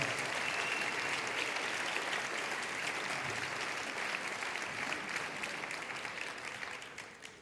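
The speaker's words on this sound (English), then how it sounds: "Let's give another round of applause to the band." Sustained applause from a concert audience for a band, dense steady clapping at full strength that slowly tapers toward the end, with no talk over it.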